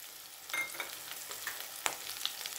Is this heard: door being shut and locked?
no